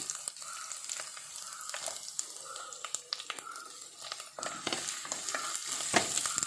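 Coconut pieces, ginger and garlic frying in oil in a pan for prawn curry, a continuous close sizzle broken by frequent scraping stirs and clicks.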